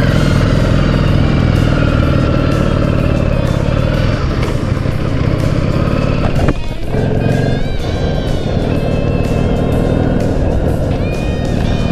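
Several cars pass on a road in Nagasaki as heard from a motorcycle, a loud continuous engine and tire roar with swelling whooshes as vehicles go by close.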